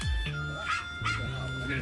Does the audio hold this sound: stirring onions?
no